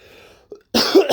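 A man with a sinus infection coughs, a single hard, close cough preceded by a faint throat sound, loud and dry with no other voices.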